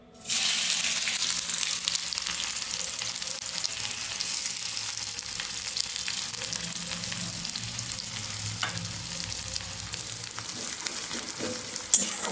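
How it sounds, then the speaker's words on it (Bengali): Onions dropped into hot oil, erupting into a loud close sizzle that holds steady for several seconds with light stirring and scraping, no voices. "তেলটা গরম হয়ে গেছে এই পেঁয়াজগুলো একটু দিয়ে দিই"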